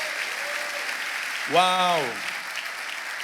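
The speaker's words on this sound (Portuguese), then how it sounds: "Vamos aplaudir, já aconteceu" A church congregation applauds during a Portuguese-language sermon, a steady wash of clapping running throughout while a single voice calls out an excited exclamation midway.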